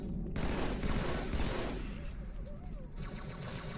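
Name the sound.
gunfire from a video game (Halo 2)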